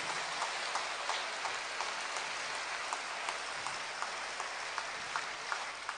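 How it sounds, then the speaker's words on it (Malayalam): A church congregation claps their hands with raised arms in worship, a steady, rhythmic patter of many hands with regular accented beats, sounding dense and a little distant. "കൈകൾ ഉയർത്തി കൈയടിച്ച്"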